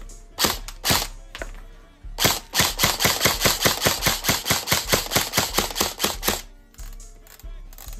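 An airsoft electric gun (AEG) fires a couple of single shots, then a long rapid burst of sharp mechanical cracks at an even pace, then a few more single shots, loud and close with no talking.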